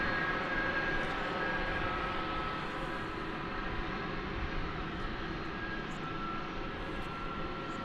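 An airliner at DFW Airport at night makes a loud, steady roar of jet engines that holds for the whole stretch, with a faint whine on top and no talk.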